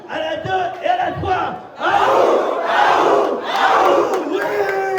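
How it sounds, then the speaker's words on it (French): A crowd of participants at a mud obstacle challenge event lets out a loud collective battle cry, with a short burst of voices first and then sustained group shouting in several swells. "Un cri, on va bientôt commencer."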